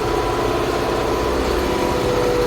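A tractor idles at a steady, loud, low rumble in a farm setting before beet planting, with an even engine drone and no talk over it.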